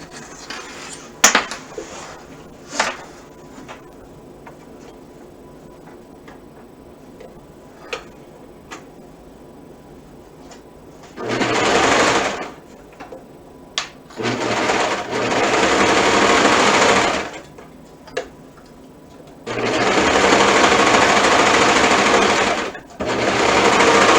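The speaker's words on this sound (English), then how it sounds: "So sewing this and sewing this." A sewing machine stitches pieces for a crossover top in three loud, sustained bursts, after a stretch of quiet ticks and light clatter, with no talking.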